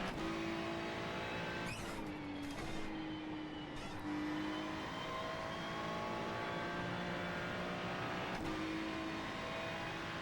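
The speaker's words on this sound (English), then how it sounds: "that's that traction control kicking in a little bit. That is something that normally you don't hear from the Ferrari" A Ferrari race car in a sim racing game lapping Spa, its engine holding a steady, loud drone with brief stuttering breaks as traction control cuts in. No one speaks.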